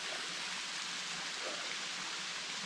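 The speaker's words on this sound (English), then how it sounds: "It's a nice little waterfall there as well," A small waterfall in Chee Dale in the Peak District gives a steady, soft broadband rush of falling water, continuous and fairly faint at a distance with no talk.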